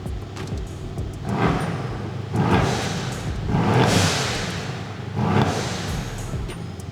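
A powerful Mercedes C63S engine revs repeatedly, several loud surging bursts rising and falling with brief lulls between, close and unaccompanied by talk.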